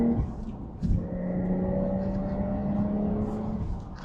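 A Porsche 911 Targa GTS (992.1) with a 7-speed manual accelerates up a highway on-ramp, its engine drone rising steadily with a shift near the start, a continuous close cabin rumble.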